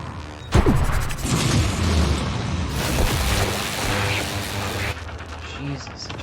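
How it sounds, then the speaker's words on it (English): A sudden loud boom of an in-game explosion in the first-person game Prey, followed by rumbling, crashing game noise that fills the rest of the moment with no speech over it. "it just like teleports an explosion next to me"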